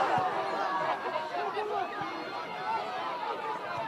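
A football crowd at a Canberra FFA Cup match roars with cheering and excited chatter, a steady wash of many voices at some distance with a few louder shouts rising through it.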